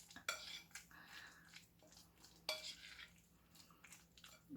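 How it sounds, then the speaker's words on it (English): Kimchi pancake batter stirred in a bowl, a utensil scraping and clinking against the sides in uneven bursts, with a steady low hum underneath and no talking. "You mix it up well"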